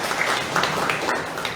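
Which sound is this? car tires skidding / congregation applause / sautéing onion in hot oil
congregation applause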